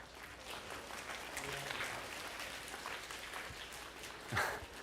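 Soft, restrained clapping from a studio audience welcoming a nervous dog guest, a steady gentle patter with a brief louder swell near the end and faint voices underneath.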